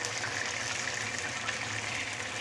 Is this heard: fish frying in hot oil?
yes